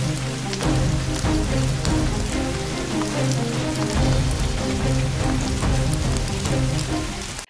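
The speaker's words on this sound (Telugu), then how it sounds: "రెండు రోజుల నుంచి కురుస్తున్న వర్షానికి రహదారులన్నీ జలమయమయ్యాయి" Heavy rain pours steadily on surfaces in Andhra Pradesh, a loud, dense, continuous wash of drops close by with no voices.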